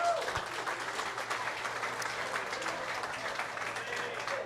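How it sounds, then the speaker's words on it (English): Broad applause from a large crowd, steady and fairly distant, sustained throughout. "How about a round of applause for Skinny?"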